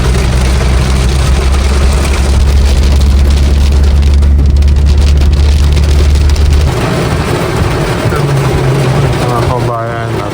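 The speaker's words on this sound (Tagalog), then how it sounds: "Nabot na kami ng ulan." Heavy rain beats down on a vehicle driving in the mountains, a dense constant hiss over a deep engine rumble that drops away partway through, while people talk throughout.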